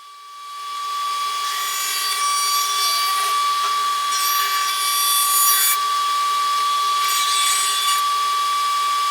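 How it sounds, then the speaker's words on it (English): Sanding the outside of a handmade wooden hat rack with a power sander, a steady whining hum holding a constant tone, with rasping bursts of abrasive rubbing against wood, close and continuous with no talking. "And now I do a little bit of sanding on the outside"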